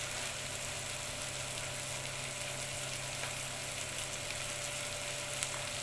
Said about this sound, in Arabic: يا حلاوه بقى المستكه هنا لما هتتقلح في السمنه او الزبده